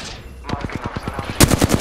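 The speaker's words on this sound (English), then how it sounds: "The enemies are shooting at me. I'm getting shot." Enemy gunfire in the video game Apex Legends comes as a rapid machine-gun burst of evenly spaced shots, then a louder, harsher burst of shots close by.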